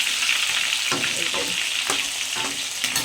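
Crabs frying in hot oil in a home kitchen, a steady close bright sizzle with intermittent crackling bursts and stirring pops throughout.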